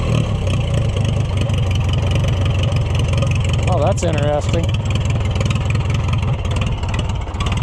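An Oliver HG-68 crawler tractor's engine runs close by with a steady low rhythmic chug, briefly shifting pitch midway, while someone talks over it.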